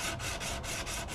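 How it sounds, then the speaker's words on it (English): Sandpaper rubbed back and forth along a surfboard rail ding, a steady close rasping scrape in regular strokes with brief dips between passes, no voices. "when you're sanding on a rail ding, little inside tip here, is holding the sandpaper kind of like this"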